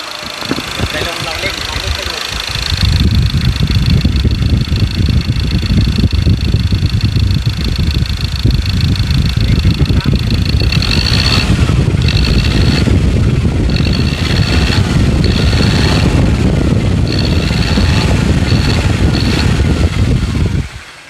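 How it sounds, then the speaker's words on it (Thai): A 2.2 diesel engine, freshly repaired injectors, revving with no load at a Thai diesel repair shop: a steady loud engine drone throughout, with a voice talking over it. "ว่าเสียงเครื่องมันจะกระพือไหมเสียงเครื่องจะมีการเขกไหมในขณะ เร่งตัวเปล่านะครับ"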